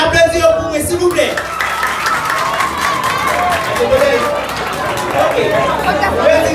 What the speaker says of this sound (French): les élèves, vous pouvez applaudir pour moi, s'il vous plaît